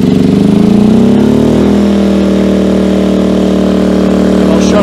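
A Firman 2000/1600 watt inverter portable generator (model W01682) revs up from idle, its engine note rising over the first second or two and then holding a steady, loud, close drone.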